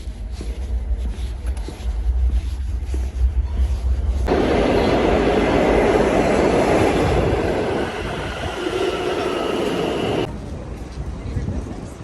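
A dense, steady rumble and rushing roar fills the inside of a moving train, rising sharply partway through as the carriage gathers noise, with a voice talking over it at the start.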